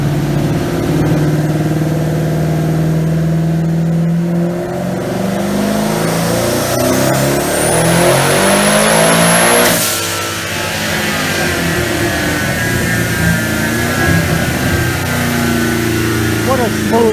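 A 2005 Mustang with a swapped Coyote V8 and added boost, run on a dyno: a loud, sustained engine roar rising in pitch to a peak, then dropping, with a whine and a voice talking over it.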